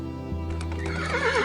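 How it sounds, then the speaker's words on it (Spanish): A horse whinnies loudly in a long, wavering call, with low hoof-like thumps beneath it as it moves off at a gallop, all close and without any talk. "Saltó sobre el caballo y se alejó al galope."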